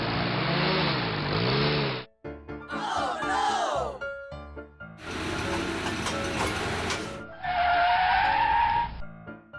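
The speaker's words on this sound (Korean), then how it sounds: "하지만 로미오가 일어나서 자동차를 타고 본부로 오는데요" Toy car driving up to a toy base in a kids' play scene, with bursts of whirring motor, skidding and ratcheting effects broken by short gaps, loud and close under faint background sound.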